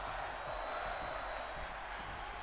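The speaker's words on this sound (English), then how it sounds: "Crowd chanting, fight forever." Wrestling crowd in a D1 tournament arena chanting "fight forever" during a match, a steady, dense roar of many voices sustained and fairly distant, no single voice standing out.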